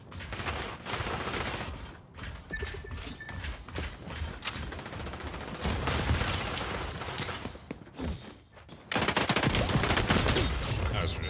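Gunfire in XDefiant rattles in quick bursts amid clicking mechanical weapon handling, rising to a louder sustained barrage near the end.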